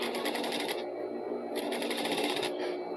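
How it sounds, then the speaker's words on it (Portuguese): Sewing machine stitching the inside of a straight skirt seam, a close, fast steady whirring rattle that runs continuously with slight rhythmic pulsing. "vou costurando aqui por dentro"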